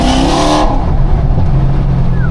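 A car engine revs hard and loud in Monaco, starting with a high, strained whine that drops into a heavy, steady roar lasting throughout.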